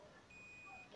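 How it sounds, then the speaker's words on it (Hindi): A multimeter in continuity mode emits a thin, steady electronic tone while a diode is tested, lasting under a second over a faint background hiss, quiet and close. "कंटिन्यूटी में बीप का साउंड आपको सुनाई दे रहा होगा"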